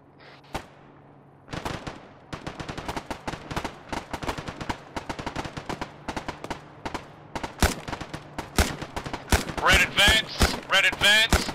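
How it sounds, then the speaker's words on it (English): A video game firefight erupts into dense bursts of automatic gunfire and single shots, loud and rapid, building toward heavier overlapping volleys, with occasional shouted voices mixed in. "Open fire."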